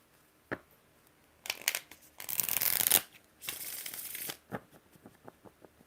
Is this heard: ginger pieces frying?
no